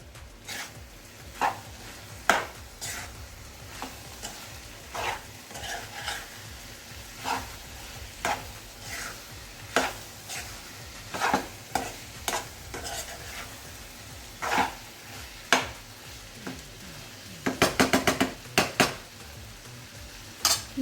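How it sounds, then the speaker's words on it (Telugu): A spoon stirs coriander powder into an Andhra-style drumstick curry in a pan, giving soft irregular scrapes and clinks over a quiet sizzle, with a quick cluster of metallic taps near the end. "కొద్దిగా ధనియాల పొడి ఒకసారి కలుపుకుందాము"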